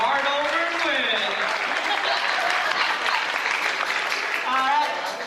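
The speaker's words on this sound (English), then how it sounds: "Round of applause for Rachel." A live audience applauds at a cultural-wear pageant for Mr. & Ms. FACT, steady sustained clapping from a crowd throughout, with a host's voice briefly heard over it.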